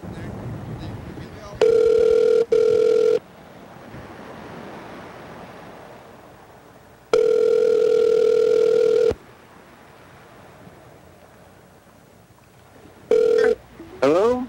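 A telephone rings for an incoming call in three separate bursts: a loud, steady electronic tone, the first split by a brief gap, with quieter stretches of background hiss in between.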